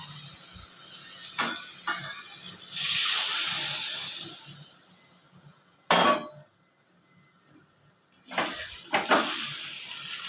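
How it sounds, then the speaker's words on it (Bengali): A burst of sizzling and hissing steam as water is poured into a pan of well-fried spice paste for a prawn curry, loud at first, then quieter bubbling with a few sharp splashes and clatters. "এবার পরিমাণ মতন জল দিয়ে দেবো"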